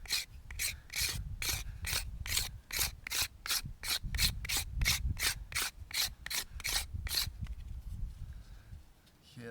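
Steady rapid back-and-forth rasping as a wooden hand drill spindle is rubbed to strip its shiny sheen, about twenty even strokes close by with a low rumble beneath, ending in quiet.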